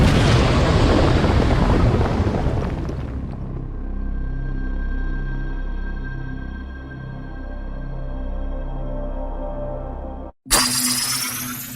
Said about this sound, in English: There was supposed to be an earth-shattering kaboom.